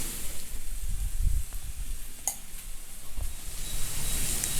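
Potatoes roast in oil in a pan, giving a soft, steady sizzle with a few brief crackles and pops.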